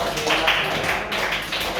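A class applauding a student in a classroom, a short burst of dense clapping from many hands, close and steady, with faint voices underneath.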